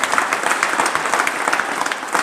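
Audience applause at a Diwali gathering at Nikhildham, a dense steady patter of many hands clapping close and fairly loud throughout, with no voices over it.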